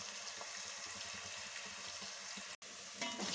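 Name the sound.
frying in a pan for street style fried rice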